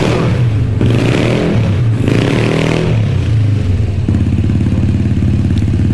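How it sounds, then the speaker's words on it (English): An autocross buggy engine runs loud and close, rising and falling as it revs, with a rough, rattling mechanical clatter under the roar and a steady throbbing idle toward the end. "You can rev up and walk and reverse right here to the set."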